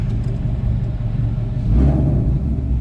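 A car engine fitted with a freshly installed two-step launch control rumbles loudly up close, with a deeper surge of revs swelling partway through before settling back to a steady growl.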